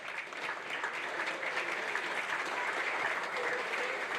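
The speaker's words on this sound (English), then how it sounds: "I'd like to also have an applause for Dr. Halprin." Sustained audience applause at a physical therapy white coat ceremony, an even wash of many hands clapping steadily throughout at a moderate distance.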